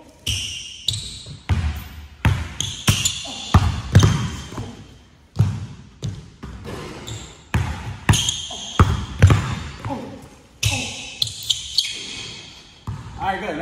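A basketball dribbled on a hard court during a fake spin move, its bounces landing in an uneven, steady rhythm of sharp, close thumps alongside squeaks and footwork.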